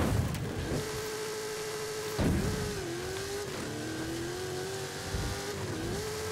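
A Ford Bronco with a big engine in the Forza Horizon 5 racing game revs hard and holds a sustained roar, briefly dropping and climbing again between gear changes, with faint tire noise.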